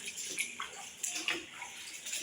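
Feet splash and slosh through shallow water in an old aqueduct on a hill walk, making faint, irregular watery swishes and drips with no talk.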